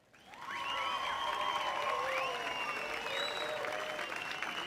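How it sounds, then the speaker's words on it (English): An applause sound effect played during a live online travel network show, crowd clapping and cheering swelling in after a quiet start and holding steady, with faint tonal whistles riding over it. "I have loathed the sound effect I had for applause"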